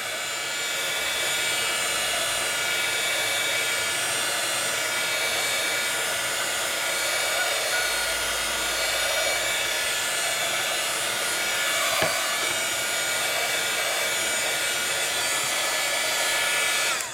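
A heat gun blows hot air onto the back of Dreamweaver crackle paste, a loud, steady whooshing roar that runs unbroken from start to finish with no one talking.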